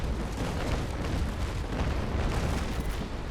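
Loud, continuous rumbling barrage of ship cannon fire in the Naval Action age-of-sail naval game, dense overlapping booms filling the whole stretch without pause.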